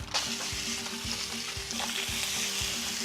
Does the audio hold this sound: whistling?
no